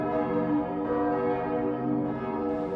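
Church bells of Saint-Flour cathedral, bells cast in 1771 and 1837 plus a three-tonne bourdon cast in 1881, ringing loud and continuous with a dense, humming overlap of tones and no voices.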